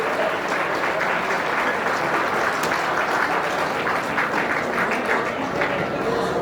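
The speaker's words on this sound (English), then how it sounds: "Please, a round of applause for Sunny." Sustained audience applause fills a community celebration hall, a dense, steady wash of many hands clapping at a consistent loud level throughout, with no clear pause or fade.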